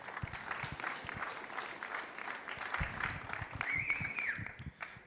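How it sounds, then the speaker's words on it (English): Crowd applause at a boxing press conference, a steady patter of many hands clapping at moderate volume for several seconds, slightly distant in a large room. "Big round of applause, please, for the magician"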